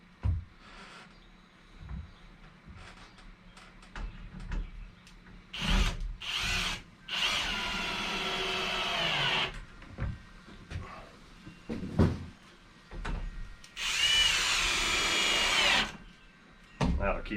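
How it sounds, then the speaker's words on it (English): A power drill drives screws into a suspended shed storage shelf, with two long whirring runs and a few short bursts, close and loud, mixed with knocks and clatter from handling wood and brief talk between. "So pop a couple of screws in on this end."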